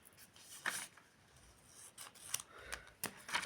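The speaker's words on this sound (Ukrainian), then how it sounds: "Я тут вже хочу відкрити ножницями" Scissors snip through a crinkly paper packet in a series of quiet, irregular cuts with soft rustling between them.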